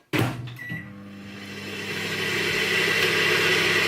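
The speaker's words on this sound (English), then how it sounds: "put this in the microwave for 30 seconds" A microwave oven heating Weetabix starts with a door clunk and beep, then settles into a steady, close, loud mechanical hum with a fan whir that builds slightly, with no talking.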